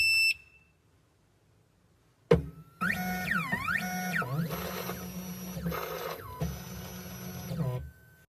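A 2M2 Tank 2 Pro CNC key cutting machine powers on after a quiet pause, giving off a run of electronic beeps and warbling tones over a steady motor hum, loud and close.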